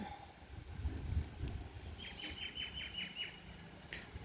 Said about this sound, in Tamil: புறா வந்து இறங்கிருச்சு, கீழே அங்கனக்குள்ள நிற்கிறாங்க